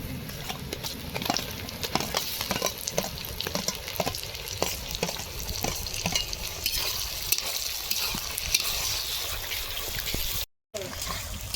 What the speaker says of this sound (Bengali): এবার পেঁয়াজ কুচি দিয়েছি পেঁয়াজ ভাজা ভাজা হয়ে আসছে